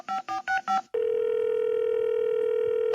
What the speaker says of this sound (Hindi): कॉलर को फोन लगाते हैं और पूछते हैं क्या है उनके मन में सवाल